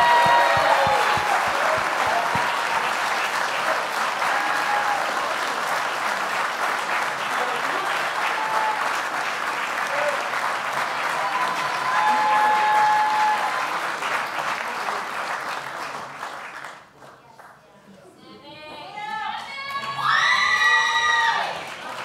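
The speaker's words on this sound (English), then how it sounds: "Give them another round of applause and a photo." Audience applause at the Tewaaraton Award lacrosse ceremony, a long, loud burst of clapping with cheers and whoops, fading briefly before a crowd shout and renewed cheering.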